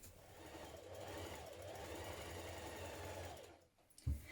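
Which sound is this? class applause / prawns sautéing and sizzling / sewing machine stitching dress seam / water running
sewing machine stitching dress seam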